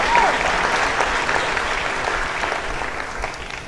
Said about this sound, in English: Please join me in giving a round of applause to all our junior recipients.